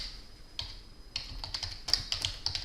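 Soft clicking of a computer keyboard as a spreadsheet sheet name is typed in, a short irregular burst of quiet keystrokes close by, with nobody talking.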